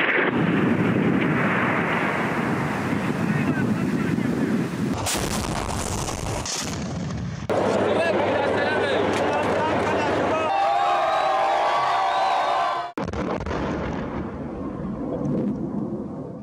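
Heavy booms of artillery fire and shells exploding near Palmyra, Syria, arrive as loud rumbling blasts that are repeatedly cut by abrupt shifts, with speech heard at points.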